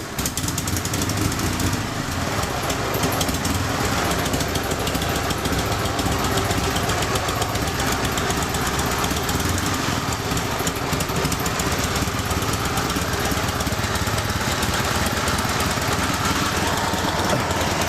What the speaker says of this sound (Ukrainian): отак працює КМЗ М72Н 1957 року виробництва